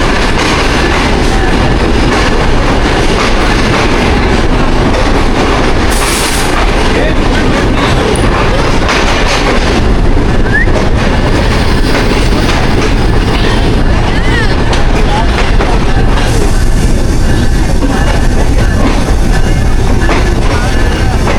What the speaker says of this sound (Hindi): फाइनली रावलपिंडी रेलवे स्टेशन पहुंच गई हमारी ट्रेन।